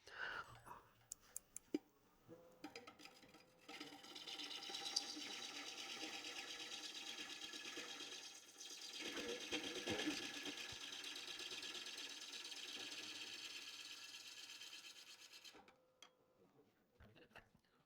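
A sharp lathe tool cuts very dry, very hard madrone wood in a steady, continuous hiss and whir lasting several seconds with a brief dip midway, close by, after a few light ticks at the start.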